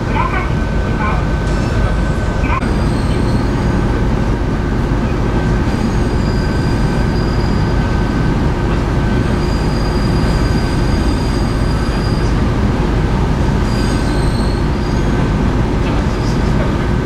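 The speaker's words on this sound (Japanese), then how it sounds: "列車はもう長崎の市内に向けて走っているところです。" A train rumbles steadily along the rails toward Nagasaki city after a long tunnel, with a constant low roar, faint high wheel squeals now and then, and no talking.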